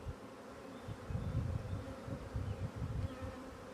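Dense, continuous buzzing of a honeybee swarm close by, swelling and fading in pulses with no voices.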